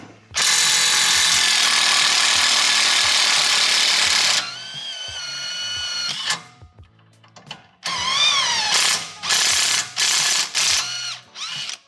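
A power ratchet spins off a 12 mm rear sway bar bolt on a 2023 Honda Civic Type R FL5, a loud sustained whirring burst followed by shorter whining pulses and stops, close up with no talking.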